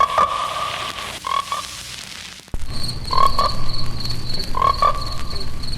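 A loud chorus of pond frogs croaking in repeated rhythmic bursts, close and clear over a steady wet background hiss, with no speech.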